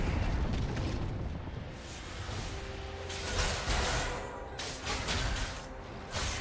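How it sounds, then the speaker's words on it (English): A League of Legends turret collapses in a heavy, rumbling explosion, with several booming broadband bursts and whooshes layered over dense game sound at close, steady loudness. "Blue team's turret has been destroyed"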